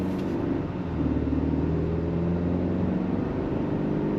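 Road noise fills the cabin of a 2025 GMC Canyon Elevation midsize 4x4 truck on lightly off-road tires: a steady, even low rumble with a broad hiss, unbroken for the whole stretch and with no voices.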